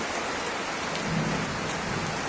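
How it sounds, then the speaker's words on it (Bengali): Heavy rain pours steadily during an evening nor'wester storm in Barasat, North 24 Parganas, a dense continuous roar with a low thunder rumble beneath it and no voices. "আজকে সন্ধ্যাবেলা বৃষ্টি হচ্ছে"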